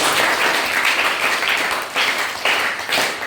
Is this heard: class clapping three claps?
yes